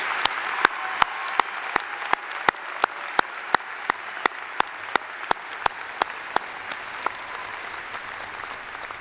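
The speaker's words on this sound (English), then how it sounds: "Please join me in a round of applause for our valedictorians and the rest of UVU's outstanding students." Audience at a 2012 university commencement applauding the valedictorians, a steady even wash of many hands with a few sharper nearby claps cutting through, moderately far and sustained with no voices.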